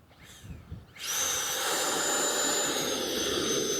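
An Arrows Marlin 64mm RC electric ducted fan jet motor spins up in reverse after a short quiet start, then holds a loud, steady high-pitched whine and whoosh close by.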